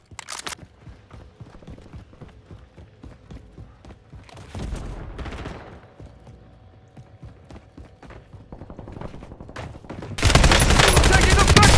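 Bursts of gunfire in the video game Warzone, scattered shots and a dense loud volley near the end, with faint in-game voices underneath.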